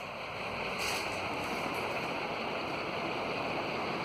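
A BLDC ceiling fan spinning at its fifth speed setting gives off a steady, even whoosh of moving air with a faint hum, constant and unbroken throughout, with no voices.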